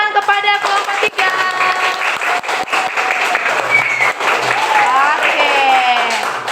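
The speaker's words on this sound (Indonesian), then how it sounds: "kita kasih tepuk tangan kepada kelompok 3" Third-grade schoolchildren clap for a classmates' drama group, with loud, continuous applause mixed with excited young voices and shouts throughout.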